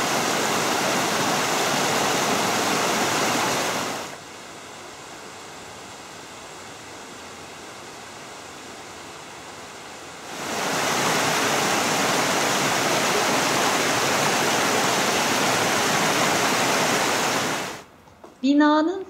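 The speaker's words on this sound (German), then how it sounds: "Das Wasser im Fluss fließt schnell." Fast-flowing river water on a farm, a steady broadband rush heard in two long loud stretches separated by a quieter gap, with a brief burst of other sound at the end.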